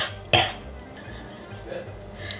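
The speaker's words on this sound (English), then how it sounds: "I just randomly cough." A single sharp cough bursts out near the start during a casual home dinner, with faint clinking of dishes and cutlery in the quiet afterward.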